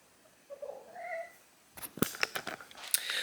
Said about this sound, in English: And there goes my cat interrupting my dang spiel.